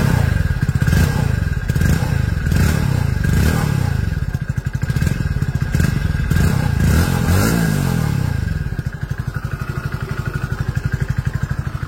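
A 2025 Hero Splendor Plus XTEC disc variant motorcycle with a chrome exhaust runs steadily at idle, its single-cylinder engine thrumming close up with light mechanical clatter and a brief blip of revs partway through.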